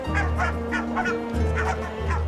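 Barnacle geese call at an Arctic cliff nesting site. There is a quick series of loud, honking calls, close by, over a low steady hum.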